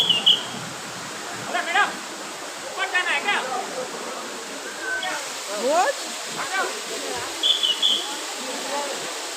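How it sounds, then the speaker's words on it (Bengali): Butterfly Falls waterfall at Lachung, a broad steady rush of falling water heard from nearby, running under several people talking. "আমরা এখানে বাটারফ্লাই ফলস দেখতে এসেছিলাম"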